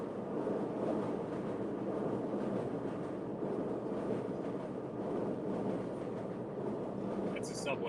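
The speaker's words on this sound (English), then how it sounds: "That's a subway going over." A Brooklyn subway train passes overhead, a steady low rumbling roar heard from inside a car, continuous and broad for the whole stretch, with voices talking faintly beneath it.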